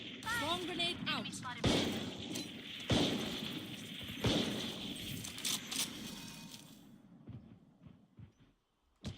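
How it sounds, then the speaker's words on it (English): A swarm grenade is deployed in a shooter video game, heard as several sharp, punchy bursts and clatters spaced a second or so apart, fading toward the end, with a voice talking over part of it. "Placing swarm grenade. Swarm grenade out."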